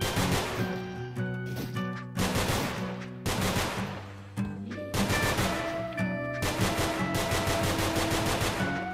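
Bursts of rapid gunfire in the Nongunz video game, loud repeated volleys in several clusters layered over a droning game soundtrack.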